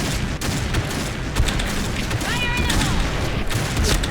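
Sniper rifle fire in the online shooter Point Blank, a steady stream of gunshots and booms with a mechanical rattle. A voice talks over the shooting throughout.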